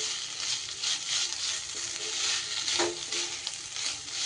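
Paneer being stirred together with pointed gourd in a frying pan, a steady hiss of sizzling oil with soft scraping strokes underneath, close and even throughout, with no talking.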